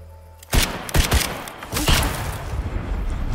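Several sharp gunshots crack in quick bursts against a noisy background in the video game Unknown 9: Awakening, moderately loud with no talking.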